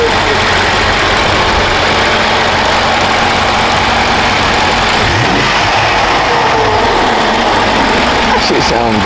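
Dodge Challenger Hellcat widebody engine idling up close, a loud, heavy, steady rumble filling the whole stretch, with voices talking over it.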